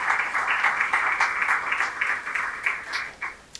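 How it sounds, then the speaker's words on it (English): An audience at a community talk on local journalism applauds the panelists, a steady patter of many hands clapping that fades toward the end. "Can you just give them a round of applause before we even get started?"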